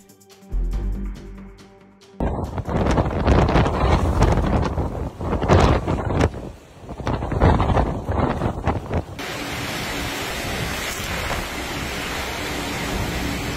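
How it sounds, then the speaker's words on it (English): Typhoon Koinu's powerful gusts roar across a remote island, loud and buffeting the microphone, surging and dropping in waves, then settling into a steady rushing hiss in the last few seconds. "The wind gusts are seemingly the third strongest recorded globally."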